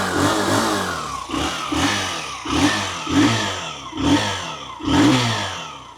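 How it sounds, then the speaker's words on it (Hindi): A motorcycle exhaust burbles at idle, then revs in repeated short bursts, about eight blips with a throaty, rising note, close by and alone. "ये लो, आइडियल कंडीशन पर आप इस बाइक का इंजन साउंड सुनो, एग्जॉस्ट नोट सुनो।"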